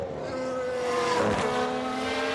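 Race cars in the F1 Manager video game roar past in a crash sequence, a loud steady engine drone with sustained tonal whine and a brief burst of noise midway, no talk.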